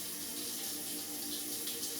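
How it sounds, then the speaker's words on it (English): Faucet water running steadily in Scarlet Hollow, a continuous hissing splash into a sink at moderate, even loudness. "You turn off the faucet and dry yourself off."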